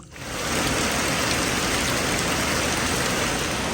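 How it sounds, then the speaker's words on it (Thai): Steady, dense rain pours down continuously, a broad hiss of drops striking surfaces close by, with no voices. "วันนี้มากกับสายฝนเลย แบบตกวัดมืบวัดขึ้นแน่นอนเลยวันนี้นะ"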